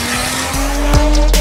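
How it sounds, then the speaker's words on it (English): A Mark IV Toyota Supra (JZA80) with a one-off titanium exhaust revs hard, loud and close, the pitch climbing and dropping with short bursts of throttle. "we've got an absolutely amazing one-off titanium exhaust"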